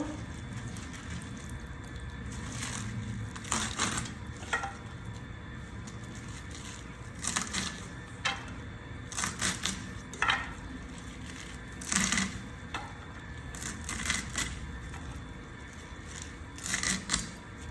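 Red amaranth greens being chopped on a board, a quiet series of irregular knife taps in small bursts over faint kitchen background noise, close by and without talk.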